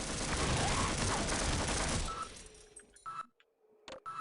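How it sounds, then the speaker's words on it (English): Sentry gun in the Half-Life video game firing a loud, rapid continuous burst of bullets for about two seconds, then stopping abruptly, followed by a few scattered clinks and quiet game noises. "Why there would be actual bullet shooting sentries in a civilian research facility?"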